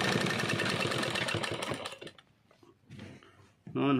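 A sewing machine runs fast while stitching lace, with a dense, close whirring for about two seconds. It then drops to sparse, quieter stitches before starting loudly again at the end.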